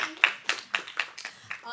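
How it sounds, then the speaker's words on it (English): Scattered handclaps from a small audience applauding a keynote speaker at a startup pitch finals, about seven distinct claps in a loose, uneven rhythm, close and fairly light. "let's all give another round of applause to our wonderful keynote speaker"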